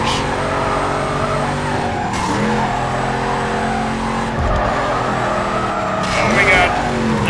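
Tires of a police car skid in the video game NFS Carbon, a sustained squeal over a steady engine drone that swells and dips through the turns, loud and continuous.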